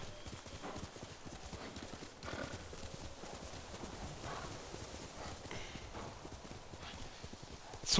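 Horse hooves clip-clop at a steady gallop through tall grass in the samurai game Ghost of Tsushima, a continuous rhythmic drumming with rustling underneath and an occasional faint whinny.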